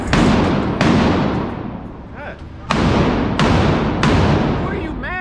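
Several loud, sharp rifle shots crack out close by at uneven intervals, each followed by a long booming echo that rolls away outdoors, with no one speaking.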